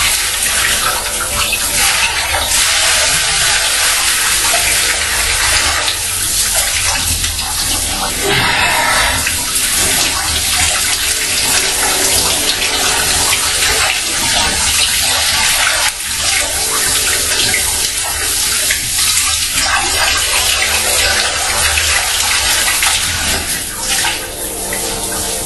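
Cold water gushing from a tap into a bath, a loud continuous rushing splash filling the whole stretch, with faint voices now and then underneath.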